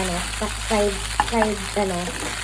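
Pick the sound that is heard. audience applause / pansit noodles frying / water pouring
pansit noodles frying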